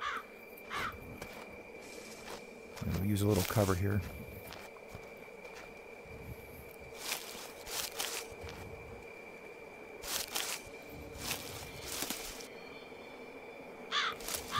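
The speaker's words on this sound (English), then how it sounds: "I love the crows and like all that stuff." Crows caw in the VR game Z.O.N.A Project X, several distant calls scattered over a quiet outdoor ambience while someone speaks briefly.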